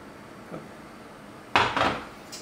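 A spatula scrapes chocolate courgette cake batter from a mixing bowl, with a soft knock followed by two quick, close scraping strokes against the bowl.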